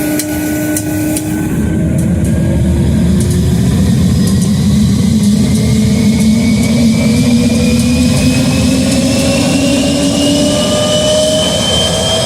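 An early jet engine, the powerplant of the twin-boom de Havilland Vampire, starting up: a loud, close roar swells from a low rumble into a sustained whine with rising tones, continuing alone for about twelve seconds.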